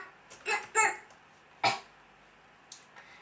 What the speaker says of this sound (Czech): Promiňte, že kašlu